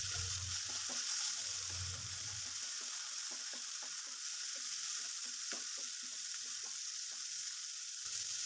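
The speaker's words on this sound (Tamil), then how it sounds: "ஒரு பெரிய தக்காளி, அதோட கொஞ்சம் உப்பையும் சேர்த்து நல்லா வதக்கி விட்டுருங்க." Chopped tomato with onion and a little salt sautéing in a pan, a steady close sizzle with repeated scraping stir strokes and a low rumble early on, no voices.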